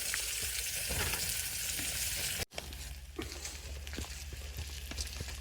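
Meat for chili fries in a pan with a strong, close sizzle, broken by a brief gap and then continuing with scattered stirring clicks and scrapes.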